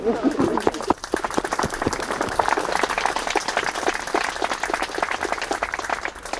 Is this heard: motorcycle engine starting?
no